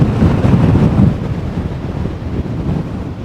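Sea waves and wind on the Marsa Matrouh coast in winter: a loud, continuous roar of surf mixed with buffeting wind noise on the microphone, steady throughout with no talking.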